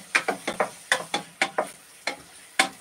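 Pepper paste and tomato paste are stirred and fried in a pan, a spoon scraping and tapping in irregular close strokes over a soft sizzle, with no talk.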